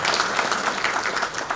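A crowd at an outdoor Christmas carol concert in Moinești applauds with dense, continuous clapping, fairly loud and even throughout the short stretch.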